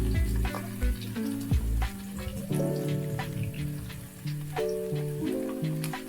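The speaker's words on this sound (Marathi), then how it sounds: "या सगळ्याला आपण व्यवस्थित असं परतून घेऊया" Chopped onion and green chilies sauté in a hot pan with a steady sizzle, broken by repeated scraping and stirring knocks, close and fairly loud with no talking.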